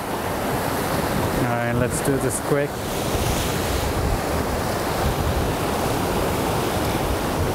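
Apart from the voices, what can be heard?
ocean waves splashing near the shore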